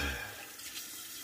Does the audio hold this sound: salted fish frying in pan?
no